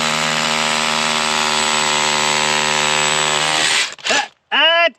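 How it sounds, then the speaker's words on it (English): A loud, continuous whining drill grinds steadily into quartz vein rock for several seconds, then stops abruptly, followed by two short bursts of sound. "I'm gonna keep drilling until I can get one of these in"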